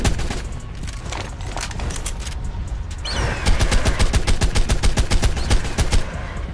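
Rapid bursts of gunfire aimed at a boss in Ark Survival Evolved Mobile, loud and sustained, with a fast, steady machine-gun rhythm that grows denser and more even in the second half.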